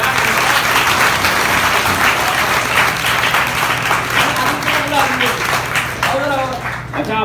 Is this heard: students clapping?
yes